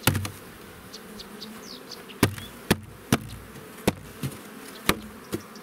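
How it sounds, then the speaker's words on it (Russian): Honeybees buzzing faintly and continuously as they are shaken from a hive box into a new hive, with several sharp thumps and knocks of the wooden box punctuating the hum. "Сейчас остается тряхнуть, и вся пчела осыпется вниз."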